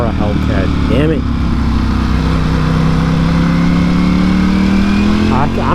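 A Dodge Hellcat engine rumbles loudly and continuously nearby, rising slightly in pitch, while people talk over it.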